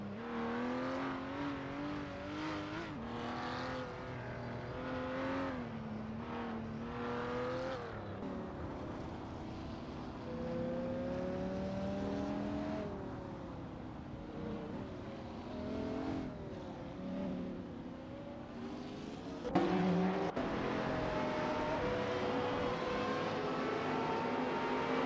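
Hypercars racing in a simulator video game, with engines rising and falling in pitch through gear changes as the cars accelerate and pass, plus a sharp louder burst near the end.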